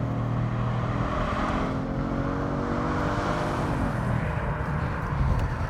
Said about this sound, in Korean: 스포츠 모드에서 달려보죠.